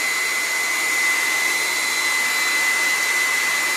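A dryer blows steadily to dry chalk paste on a wood frame craft, a loud, even whooshing hiss with a thin high whine running throughout, close up and without any talking.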